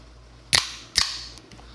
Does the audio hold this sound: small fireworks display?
yes